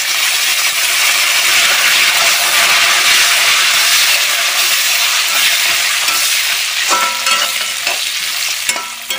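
Breadfruit chips frying in coconut oil roar with a loud, dense, continuous sizzle, and salt water splashed in near the end brings sharp crackling bursts, close and alone without talk.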